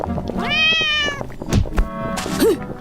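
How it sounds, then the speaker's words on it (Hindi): A cat in an animated fairy tale gives two drawn-out, clear meows close up, separated by a brief thump and rustle, with soft background sound underneath. "अचानक बिल्ली कहीं से घुस गई जिसने यागा को चौंका दिया।"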